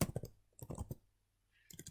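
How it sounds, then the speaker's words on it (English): Arrow keys on a computer keyboard are tapped in quick clusters of soft clicks, close and quiet, separated by short silent gaps. "So I'm arrowing down with the arrow keys on my keyboard."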